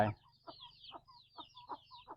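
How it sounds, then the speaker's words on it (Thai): Ducklings at a farmyard near a temple give a run of short, high peeps in a quick, uneven rhythm, close and clear over a quiet low hum. "นี่ก็ลูกเป็ดเนาะพี่น้อง"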